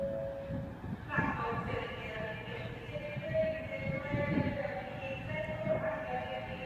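A Class 390 Pendolino passes through Crewe on the West Coast Main Line, a rumbling run with faint tonal whine rising and falling, heard under a voice talking nearby.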